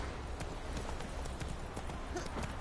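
Horse Roach from The Witcher 3 trotting with a steady, continuous clip-clop of hooves throughout, moderately loud and with no voices over it.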